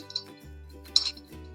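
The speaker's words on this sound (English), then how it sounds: "And then we're going to stir to chill the mixture." Large ice cubes clink against the glass while a cocktail mixture is stirred to chill it. Two brief, bright clinks, the second one louder, sit over a steady low background hum.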